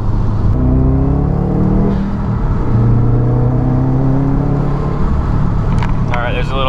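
A Subaru engine suffering a misfire and roughness pulls hard in third gear from about 3,500 RPM, its rising revs loud and close inside the car. A voice speaks briefly over the engine.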